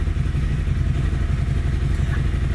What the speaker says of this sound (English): There's a motorbike outside the door right in front of me.